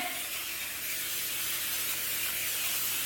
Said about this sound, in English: I'm gonna take a little bit of spray oil and spray down my casserole dish